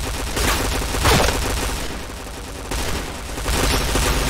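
Flashbang grenade going off in a team shooter video game, heard among dense, continuous game gunfire and blasts, with loud bursts near the start and again later.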